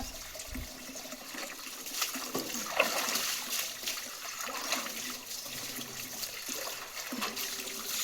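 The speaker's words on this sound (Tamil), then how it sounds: "இந்த தண்ணி ஊற்று" Water is poured and splashes steadily while someone is being bathed, a continuous wet rush with irregular splatters over several seconds, fairly close.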